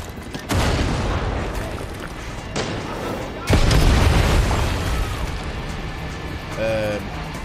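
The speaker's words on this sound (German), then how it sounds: "Ja, was explodiert denn da alles?" Several heavy explosions in the video game Far Cry 6 boom at irregular intervals, each a loud broadband blast with a deep rumbling tail over continuous game noise, the strongest coming midway.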